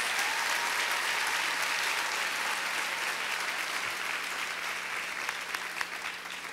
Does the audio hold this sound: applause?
yes